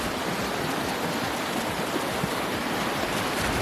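Rushing water of a stream at a camping site, a steady broad hiss and churn with faint splashing underneath, continuous and fairly loud with no voices.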